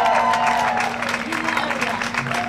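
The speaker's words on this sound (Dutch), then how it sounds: "en dan het allergrootste applaus" An audience at the North Sea Jazz festival applauds a singer. A dense wash of clapping fills the whole moment while someone talks over it.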